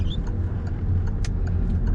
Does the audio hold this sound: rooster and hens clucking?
no